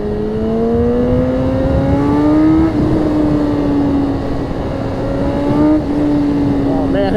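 A 2020 BMW S1000RR motorcycle engine drones loudly and steadily while riding, its pitch climbing gradually through the gears with a couple of brief shifts, over constant wind and road roar.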